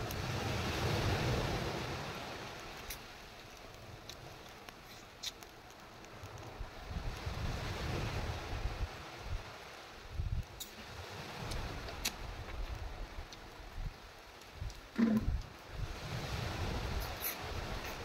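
Gusty wind buffets the microphone on a rocky Palawan, Philippines shore over a low, surging wash of sea and surf, rising and falling irregularly with occasional soft knocks.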